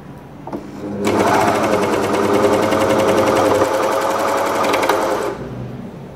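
A Willpex WP550 household four-thread coverstitch machine runs loud and close in one continuous fast stitching burst of about four seconds, with a buzzing rapid needle rhythm that starts and stops abruptly.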